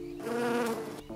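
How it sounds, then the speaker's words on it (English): A European honeybee buzzes with a steady droning hum from its rapidly beating wings, swelling briefly louder near the middle, close by and with no voices. "The buzzing sound you hear when bees are around is made by the wings"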